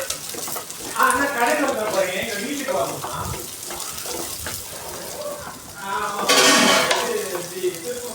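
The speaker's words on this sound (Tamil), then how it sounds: "சேர்த்து நல்லா வதக்கி வச்சுக்கலாம்" Chopped small onions sautéing with fried vadagam in a pan, a steady hiss and crackle running throughout at moderate level, with a louder, brighter burst of sizzling near the end.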